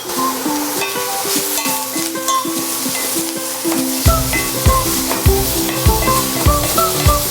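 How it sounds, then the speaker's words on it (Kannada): Paneer cubes and capsicum fry in a pan with a steady sizzle and stirring scrapes, heard under music with a recurring low beat. "ಚೆನ್ನಾಗಿ ಫ್ರೈ ಆಗಿದೆ ಪನ್ನೀರ್"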